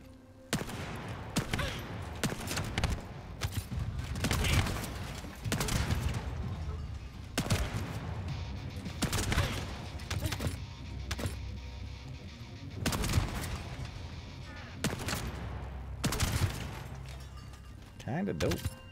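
Hand cannon gunfire in the shooter game The First Descendant, loud sharp shots in irregular bursts mixed with explosions and combat noise, with someone talking at times.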